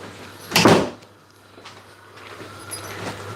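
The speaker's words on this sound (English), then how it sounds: "I'm just going to shut my kitchen door" Kitchen door being shut, a single close thud and rattle early on, followed by quieter room noise and faint handling sounds.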